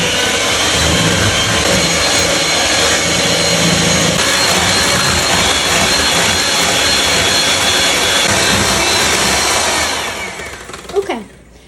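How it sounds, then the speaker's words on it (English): An electric hand mixer whirs loudly and continuously while creaming eggs and sugar for Italian lemon cookies. The steady motor drone runs for about ten seconds, then winds down and stops. "I'm going to use one of these mixers to mix it up"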